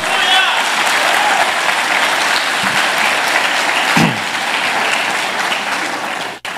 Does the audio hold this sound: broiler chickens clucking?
no